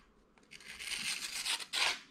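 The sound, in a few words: Spyderco Navaja knife cutting paper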